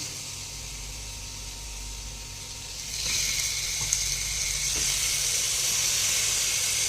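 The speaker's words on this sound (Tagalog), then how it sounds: "Ilagay na natin itong ating chicken. Gisa din natin yan." Chicken is sautéed in a hot pan for Filipino adobo, a steady close sizzle and hiss that swells louder partway through as the pieces hit the oil.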